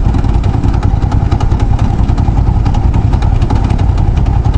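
Hyosung GV650 Aquila motorcycle lugging at very low speed in fifth gear, a loud, close, uneven chugging engine rumble with clattery pulses throughout.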